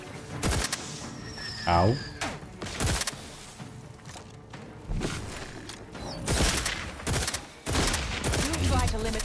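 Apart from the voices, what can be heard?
gunfire in The Outer Worlds 2 video game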